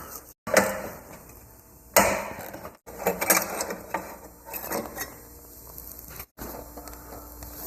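Cover held by 8mm bolts being unfastened with a ratchet on a vehicle that refuses to start, giving a series of close metallic ratcheting clicks and clunks with brief gaps and no talking.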